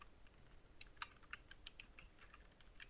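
Typing on a computer keyboard while filling text and numbers into a form in Adobe Acrobat Pro, a quiet run of irregular key clicks, close and faint, with no talking.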